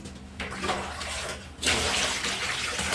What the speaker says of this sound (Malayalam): കുറച്ച് വെള്ളം കൂടി ഒഴിക്കുവാണെങ്കിലേ